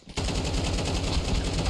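AK rifle gunfire in the Counter-Strike 2 video game, a loud, steady fully automatic stream of rapid shots starting abruptly and continuing without pause.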